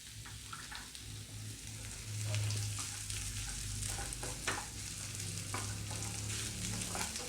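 Onions frying in a pan as poppy seeds are added for a peas and potato kurma, a soft, steady crackling sizzle with light stirring scrapes throughout, fairly quiet and without speech.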